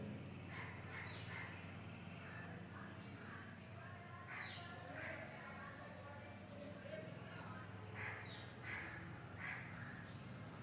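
Birds overhead give several short crow-like caws at a Narmada riverside ghat in Dindori, near a temple and ashram. The calls sound faint and distant over a low background hum.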